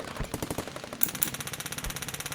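Rapid automatic gunfire in a steady rattling burst, sharp repeated shots at close range in Minecraft, with no voices.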